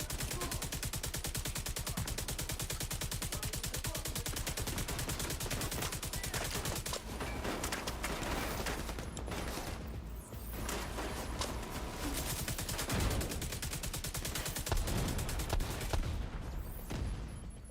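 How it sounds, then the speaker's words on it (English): Dense, continuous gunfire and detonations rattle through a firefight in The Division 2, rapid automatic bursts layered with heavy blasts that stay loud throughout, with brief dips around the middle before the barrage surges again. "There are explosives detonating everywhere."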